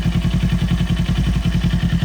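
A 2018 Kawasaki Ninja 400 with about 14,000 km idles up close, a loud, even engine pulse with a rapid regular throb and light mechanical clatter, heard alone.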